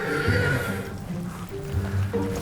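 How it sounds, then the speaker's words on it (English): A racehorse at a bloodstock sale gives a loud, close whinny that rises and falls over about two seconds, with faint hoof clip-clop and stable bustle underneath. "He's a nice horse."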